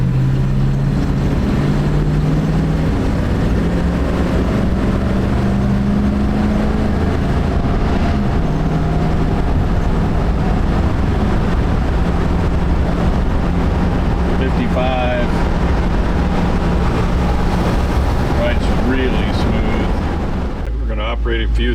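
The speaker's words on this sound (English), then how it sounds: "we're getting on the highway and going to take it up to speed for you" A 1969 Chevrolet G10 Deluxe Sportvan with a 307 V8 and automatic transmission cruising at highway speed, heard from inside as a loud, constant low engine drone and road roar with wind rush, no talk over it.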